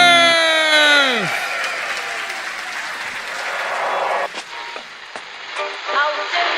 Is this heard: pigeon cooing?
no